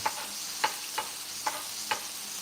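Beef and adobo sauce sizzle quietly in a pan, a faint steady hiss punctuated by five evenly spaced scrapes or taps of stirring.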